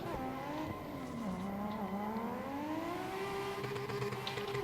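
A drifting car sliding through a hairpin corner, its engine droning at a steady pitch that dips and then climbs again, with tyre squeal mixed in, heard from inside the car at moderate loudness with no talk.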